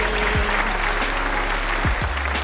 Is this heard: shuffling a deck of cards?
no